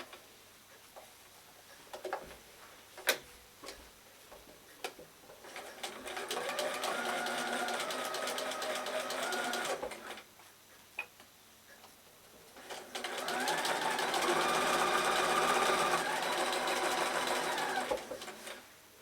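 A sewing machine string-pieces patchwork blocks in two bursts of rapid stitching, separated by quiet pauses with small clicks and handling noises, fairly close.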